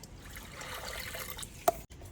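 Water pours steadily into a pressure cooker on a wood-fired clay stove for cooking chickpeas, a continuous splashing trickle, then a short clink near the end.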